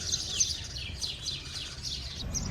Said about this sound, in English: And the birds, listen to this.